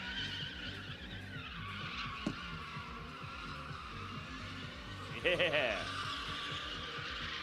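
A Crown Vic car spins donuts at a drift pit, its tires skidding and squealing over a continuous engine drone, with a brief sharp squeal burst near the end and a short voice heard.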